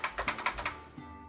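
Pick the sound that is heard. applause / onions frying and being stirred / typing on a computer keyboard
typing on a computer keyboard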